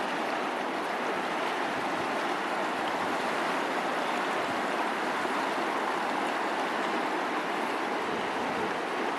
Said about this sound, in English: The river is high.